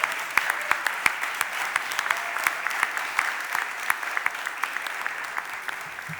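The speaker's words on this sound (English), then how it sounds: "Can you please give them a great round of applause?" A city council chamber audience applauds students from a South Philadelphia school, many hands clapping steadily and briskly for several seconds, a full room ovation with no voices over it.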